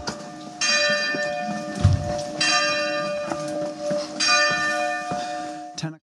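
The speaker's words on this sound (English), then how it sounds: "The bell's ringing, it's time to go." A church bell on the French Riviera rings out loudly in repeated strikes, each ringing tone sustained and overlapping the next, with faint background noise between.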